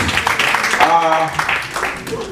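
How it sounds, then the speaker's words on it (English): A conference audience on disabilities claps in applause, a broad wash of hand claps that swells, dips briefly and rises again while a voice speaks over it. "Give him another round of applause."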